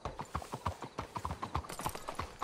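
Horse hooves clip-clop in Red Dead Redemption 2, a steady, even trot of crisp hoofbeats close and alone, with no voices over it.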